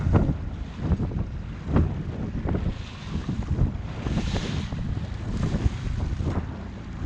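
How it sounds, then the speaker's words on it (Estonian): Waves slapping against a small boat trolling on Lake Peipsi, a steady rushing roll of water with irregular louder splashes, all under heavy wind buffeting on the microphone. "See lainetus on vist suuremaks läinud natuke."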